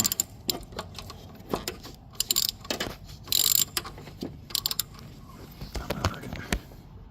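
A hand ratchet clicks in short bursts while a bolt is tightened during a supercharger kit install on a 1999–2005 Mazda Miata, close-up mechanical ticking scattered between pauses and small clanks in a garage.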